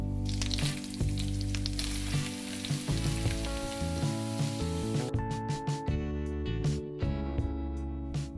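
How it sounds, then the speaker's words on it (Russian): Grated carrots fry in melted butter in a pan, a steady close sizzle running throughout with occasional stirring scrapes and faint music in the background. "Растапливаем сливочное масло, на котором и обжарим морковь."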